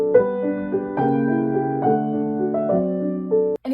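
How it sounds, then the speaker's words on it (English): Solo piano plays Schumann's "Of Foreign Lands and People", a gentle melody over flowing broken-chord accompaniment. The notes are clear and close, played alone with no talking. "I'm going to play through Schumann's Of Foreign Lands and People."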